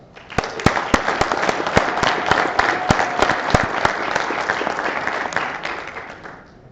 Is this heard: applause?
yes